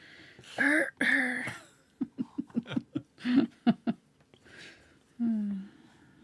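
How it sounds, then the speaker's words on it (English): Someone coughs and clears their throat close by, a few rough bursts followed by a string of short choppy laughs, ending in a low grunt. "Cough sounds like a truck driver."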